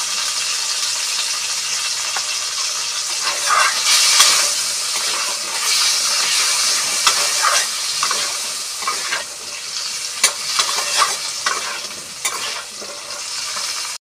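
Potatoes and cauliflower fry with salt and turmeric in a pan for a Bengali dry cauliflower dish, giving a constant close sizzle with repeated scraping and clattering as they are stirred.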